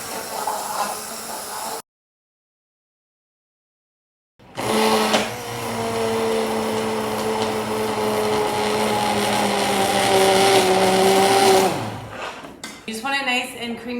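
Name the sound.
hand blender blending strawberry sauce in pot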